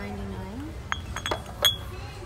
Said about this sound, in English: Here's some rose water facial spray. Oops. And in a glass bottle